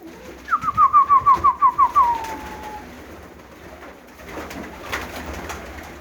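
A racing pigeon coos in a quick run of about eight rhythmic pulses ending in a drawn-out note, close and clear, followed by quieter background rustling.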